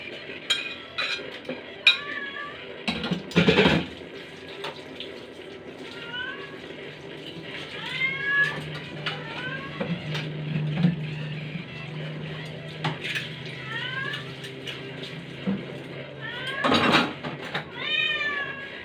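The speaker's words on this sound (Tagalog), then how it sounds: "Ang aking pusa maingay" A cat meows repeatedly, rising and insistent, amid clinking dishes and cutlery in a kitchen, with occasional talking.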